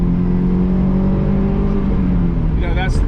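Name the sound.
2006 Honda S2000 engine revving into VTEC range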